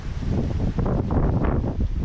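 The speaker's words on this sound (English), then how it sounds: "It's so windy." Strong wind blowing outdoors on a walk toward woodland, buffeting the microphone with a steady low roar and gusty surges throughout, with no voices.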